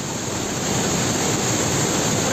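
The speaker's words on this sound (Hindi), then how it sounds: "बहुत ही भारी बारिश के कारण बहुत ही पानी बह रहा है ऊपर से" Floodwater after heavy rain rushing down from above, carrying large stones past stranded vehicles, a loud continuous roar with no pauses and no voices.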